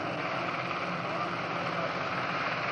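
Naval aircraft fly past over the harbour during the Royal Australian Navy's 1986 75th Anniversary fleet review, heard as a steady, even broadband roar that holds without a break.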